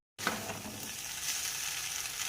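Boiled Maggi noodles are mixed in a frying pan: after a brief silence a soft, continuous sizzle starts with a light scrape of stirring, quiet and close, with no voices.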